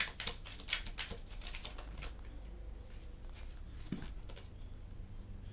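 Tarot cards shuffled by hand, a run of quick crisp riffling taps and flutters in the first two seconds, then scattered softer card handling, close and moderately loud over a faint background hum.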